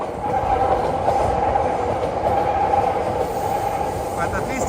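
Yamanote Line train rolling past on the street in Ikebukuro, Tokyo, a steady loud rumble with faint rail clatter that holds for the whole stretch.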